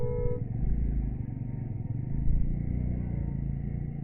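A Jawa 42 motorcycle rides along a road, its engine giving a steady low rumble with slight throttle swells, heard close as if from the rider's seat.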